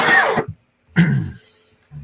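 Two bursts of harsh coughing, close and loud, separated by a brief silence, with a short rough sound starting at the end.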